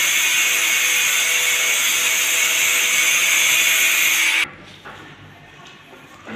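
A power tool cuts sink holes into a quartz solid surface countertop for an undermount sink. The cutting is a loud, steady, hissing grind that stops abruptly partway through, leaving only faint room noise.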